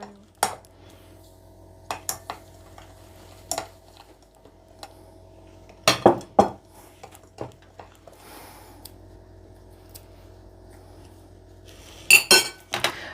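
Cookie dough of room-temperature butter, eggs and other ingredients being mixed in a bowl, heard as sparse, scattered clinks and taps of a utensil against the bowl over a quiet background, with no talking.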